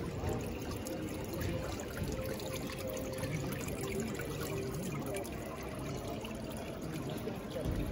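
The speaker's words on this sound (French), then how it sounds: "de l'eau qui coule sur la carrosserie" Water runs and trickles steadily over the bodywork of a Pista sports car with carbon-fibre details, a continuous close splashing wash with no break for the whole stretch.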